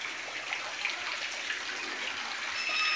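Water discharging from a semi-automatic steam boiler during blowdown, a steady hissing rush of water and steam throughout, even and unbroken with no talk.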